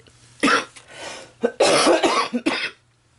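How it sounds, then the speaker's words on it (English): Several rough coughs from a lingering cold in quick succession, close to the microphone, with short pauses between bursts and a low background hum. "I've had a bad cold, so I still have this residual cough"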